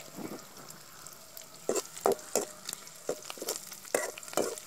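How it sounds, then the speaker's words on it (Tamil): Onions sautéing in a pan for egg rasam, a soft continuous sizzle broken by a run of sharp stirring scrapes and taps that come in quick bursts near the end. "இப்போ பார்த்தீங்கன்னா வெங்காயம் வந்து ஓரளவு நல்லா வதங்கிடுச்சு."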